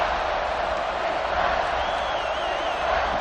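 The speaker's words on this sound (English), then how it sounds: "3rd down and the crowd really getting into it" A steady, dense roar from a stadium crowd in an American football video game rises and falls slightly as it carries on without a break for several seconds.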